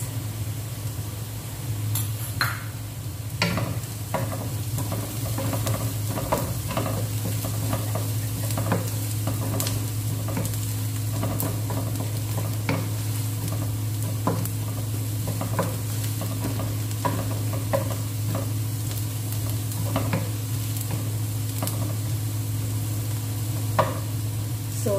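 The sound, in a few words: frying onion and garlic with chili powder being stirred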